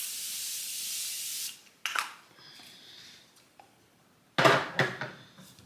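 A Morphe Continuous Prep and Set Spray setting mist gives a long steady hiss close by, then after a pause two more short, sharp bursts of spray.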